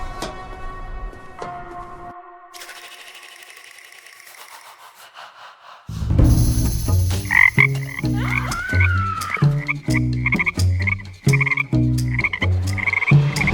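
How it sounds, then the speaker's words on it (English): Frogs croak in a dense chorus after a musical intro, rhythmic repeated calls overlapping loudly with a steady pulsing beat of music beneath. "Frogs poured forth in leaping piles."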